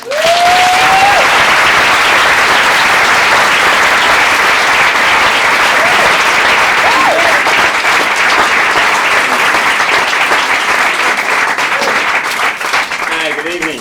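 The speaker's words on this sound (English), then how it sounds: "let's have a big round of applause for Cubby" An audience at McCabe's Guitar Shop in Santa Monica bursts into loud, sustained applause for a spoken word performer, a dense roar of clapping from the crowd with a brief whoop near the start and some voices mixed in.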